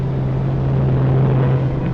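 Lancaster bomber formation droning toward the battleship Tirpitz, a loud, steady low engine rumble that holds constant throughout with no voices.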